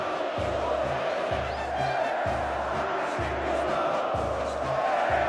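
Grêmio supporters chant loudly and continuously in a packed stadium celebrating the 2016 Copa do Brasil title, a dense roaring crowd with rhythmic low pulses under the singing, no clear talk over it.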